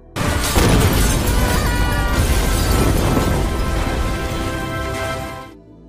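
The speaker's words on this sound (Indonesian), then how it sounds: "sebelum lumbung tersebut meledak" A barn explodes with a loud, close burst, then a dense roaring rumble and crackle that slowly fades over several seconds.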